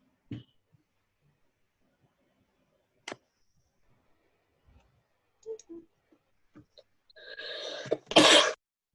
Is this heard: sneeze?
yes